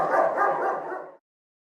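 A dog believed to be the offspring of a wolf, at the TIKO animal sanctuary in Klagenfurt, Austria, gives a single loud, drawn-out bark close by that breaks off abruptly into silence.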